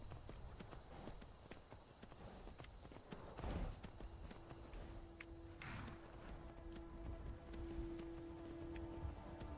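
Horse hooves clip-clopping at a walk while riding in the video game Skyrim, a soft, rhythmic patter of hoofbeats at low volume over faint background ambience.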